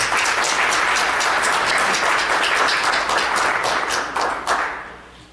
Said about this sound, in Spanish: fuertes aplausos por favor para ella